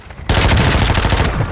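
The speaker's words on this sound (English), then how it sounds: "that mortar strike just brought him in" A mortar strike hits in a multiplayer video game, bursting suddenly into a loud, close, sustained rumbling crackle of explosions and rapid impacts that lasts over a second without any talk.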